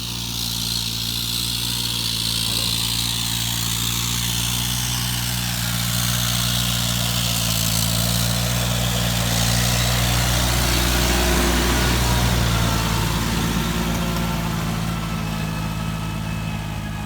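A tractor engine drones steadily on a rice farm, a continuous low mechanical hum with a slight rise and fall in pitch, fairly close and with no talk.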